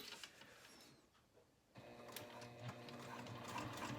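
An industrial sewing machine with a specialty foot stitches right along a raised fabric edge, a steady mechanical whirring chatter that pauses briefly, then resumes louder and continuous.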